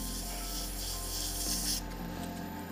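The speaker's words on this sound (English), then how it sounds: "It's taking a fair while to sand this one." Sandpaper rubs steadily against a wood and epoxy resin shaving brush handle in a continuous rasping scratch, close up, stopping abruptly near the end.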